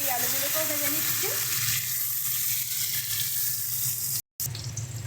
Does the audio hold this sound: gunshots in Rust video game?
no